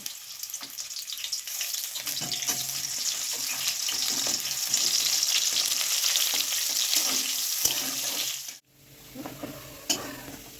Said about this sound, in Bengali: অল্প কিছুটা পেঁয়াজ আগে একটু ভেজে নেব লাল লাল করে